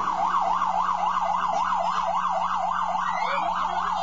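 An ambulance of the Mexican Social Security Institute wails with a loud, steady up-and-down siren, its rising and falling tone cycling quickly and evenly over a low road rumble, with no talking.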